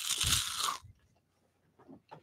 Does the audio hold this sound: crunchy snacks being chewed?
yes